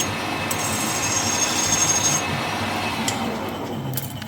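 A hand file rasps steadily across a metal edge on a custom Harley Dyna motorcycle headstock part, making a close, continuous scraping sound with no talking.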